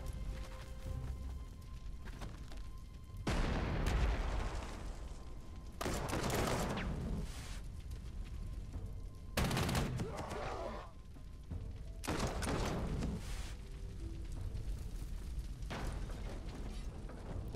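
In the Panzer Corps 2 strategy game, set at Saarbrücken in 1939, engineers attack a tank: separate loud bursts of gunfire and heavy thuds recur every few seconds, with quieter gaps between them.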